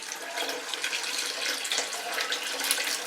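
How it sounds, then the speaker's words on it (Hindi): Water is poured into raw mutton mince in a cooking pot, a continuous splashing, hissing stream at moderate volume with slight surges, running steadily from start to end. "ये इसमें मैं अब पानी डालूँगी।"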